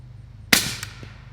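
A single suppressed shot from a handy rifle in 300 Blackout with a YHM R9 suppressor firing 220 grain subsonic rounds, a sharp, muted crack followed by a brief fading tail.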